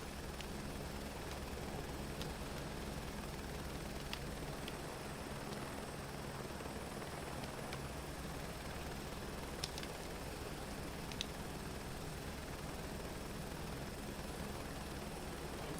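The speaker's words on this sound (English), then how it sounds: "Back taxi in a helicopter against the wind." A steady, droning helicopter rotor hum from a helicopter back-taxiing into the wind in Microsoft Flight Simulator 2024 continues at a low level throughout, with a few faint clicks over the constant engine noise.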